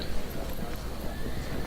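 Horse sounds from the Field of Glory 2 strategy game, with a whinny and hoof clatter in a continuous mid-level mix and some speech-like murmur mixed in.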